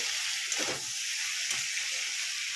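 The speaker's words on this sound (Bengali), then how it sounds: "এবার এগুলো সব ভালো করে মিলিয়ে দেবো" Bottle gourd and ground mustard paste sizzle steadily in a hot pan, with a couple of soft scraping stirs breaking through the constant frying hiss; no voices.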